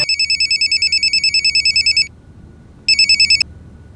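An office telephone ringing nearby, loud and electronic, in a rapid trilling pulse that runs for about two seconds, pauses, then starts again briefly, with no voices over it.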